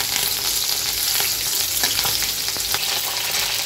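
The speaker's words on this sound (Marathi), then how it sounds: "मोहरी छान तळतळली की हिरव्या मिरच्या कट करून घेतलेल्या त्या ह्याच्यात टाकून घ्यायचं। छान हलवून घ्यायचे आपल्याला।" Chopped green chillies sizzle in hot oil with popping mustard seeds, a loud, dense, continuous crackle with stirring clicks and scrapes throughout and no voices.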